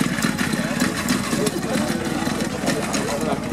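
Vintage motorized bicycle from a classic French bike collection (Alcyon, Stellina), its small engine running with a steady, rough, close putter under continuous voices talking nearby.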